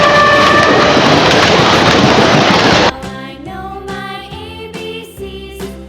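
A loud rushing train roar fills the first few seconds, then cuts off abruptly into bright, plinking melodic notes.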